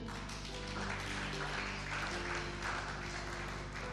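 A church congregation applauds together, a loud, steady wash of clapping hands that continues without a break from start to finish.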